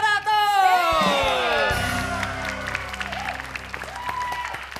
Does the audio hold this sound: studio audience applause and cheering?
yes